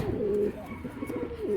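A racer pigeon gives two close, low cooing calls, one at the start and one at the end, against a quiet room background.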